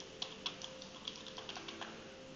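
Plus and minus keys tapped on a computer keyboard make a quiet, uneven string of soft plastic clicks, close and alone.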